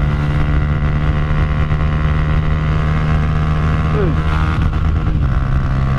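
A fuel-injected Honda Titan 150 motorcycle held at high revs at top speed, a loud constant engine drone with wind buffeting, one slight pitch dip near the end and no talk.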